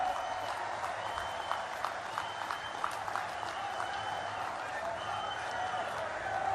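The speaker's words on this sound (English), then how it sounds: "Give big applause for our Prime Minister." A large crowd applauds the Prime Minister at a public address in Andhra Pradesh, with sustained, fairly distant clapping that forms an even wash of sound throughout.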